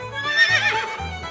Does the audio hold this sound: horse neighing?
yes